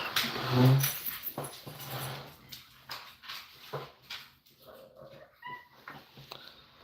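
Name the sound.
dogs whimpering excitedly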